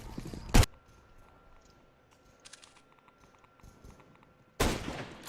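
Gunfire in Counter-Strike: Global Offensive, with a short loud burst near the start, faint distant shots in the middle, and another loud volley at the end, game sounds without voices.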